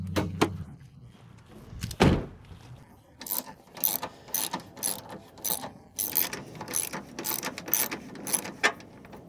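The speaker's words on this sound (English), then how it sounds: "All right, let's get this hood open." The hood of a Dodge Ram opens with a heavy thunk, followed by a string of sharp metallic clicks and clunks from the latch and hinges, close by and with no talking.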